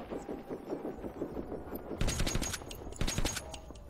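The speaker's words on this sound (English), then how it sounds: "So there's a machine gun on that side." Machine gun fire in the shooter Metro 2033 arrives in two sharp rapid bursts in the second half, preceded by a quieter stretch of rhythmic mechanical pulsing, with no talk over it.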